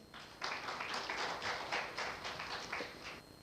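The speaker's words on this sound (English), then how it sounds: "Let's welcome him with a huge round of applause" Faint, quick, rhythmic clapping from a seated audience at a talk welcoming the speaker to the stage, with bursts of claps blending into a soft, even patter.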